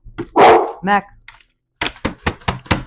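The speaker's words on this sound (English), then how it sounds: "He always barks every time one of my" A dog barks in a burst of several sharp barks with a drawn-out yelp, then a pause before five quick barks in a steady rhythm, close and loud with no other voices.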